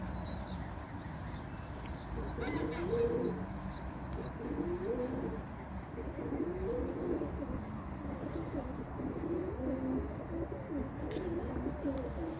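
Pigeons coo in repeated low, throaty phrases against a steady background hum, with no talking.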